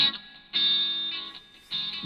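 Distorted, gritty tones pass through the EQ circuitry of the Airwindows ConsoleMC console plugin, three sustained bursts with a bright buzzy edge separated by quieter dips.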